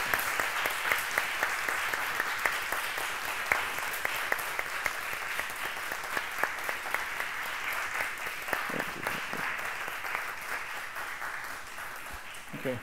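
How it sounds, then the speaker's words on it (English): A conference audience applauds to thank a speaker, Judge Péter Paczolay, after a talk on the universality of human rights; steady, moderately distant clapping continues throughout with faint voices mixed in. "But I would like to ask you to join me in a round of applause to thank, the Honorable Judge Péter Paczolay."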